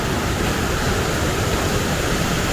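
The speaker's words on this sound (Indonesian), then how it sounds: "dengar sendiri suara riak airnya deras sekali" Rapids on the Mahakam River in Indonesia roar as a steady, dense broadband rush of fast water, loud and continuous throughout with no voices.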